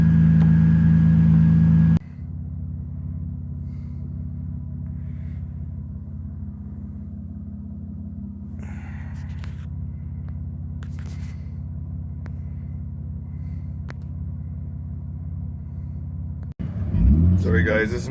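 A Mitsubishi car creeps down a driveway toward the road, its engine a steady low rumble throughout, with a louder burst at the start and a brief rise near the end.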